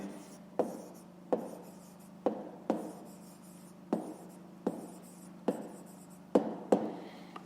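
Pen writing an answer by hand on paper for a fifth-grade math exercise, with close, distinct strokes scratching in a steady rhythm, about ten short scrapes spread across the quiet stretch.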